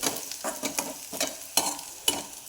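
Onion and curry leaves stir-fried in a pan for masala-style matki bhaji: repeated scraping strokes of a spoon every half second or so over a steady oil sizzle, close and moderately loud with no talking.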